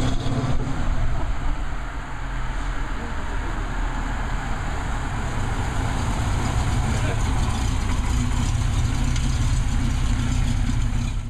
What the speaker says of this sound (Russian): особый благородный звук срабатывающих замков дверок и аристократический великосветский тембр работающего двигателя